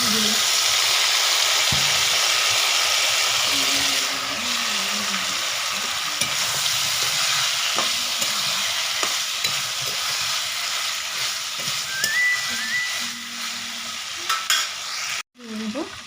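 Previously fried vegetables go into oil tempered with panch phoron and are stirred in the pan, giving a loud, continuous sizzle with scraping stir strokes throughout and a brief dip near the end.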